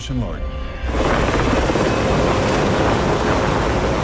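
A helicopter's rotor chop and engine roar rise suddenly and stay loud and close, after a moment of quieter sound at the start.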